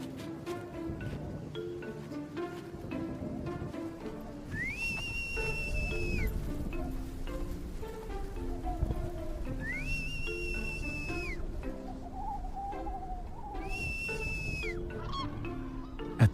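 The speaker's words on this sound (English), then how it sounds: "At the sound of the whistle, the cranes all come." A high, clear whistle calling black-necked cranes to feed on a wetland reserve sounds in three separate long blasts over a busy outdoor background of birdsong and animal calls.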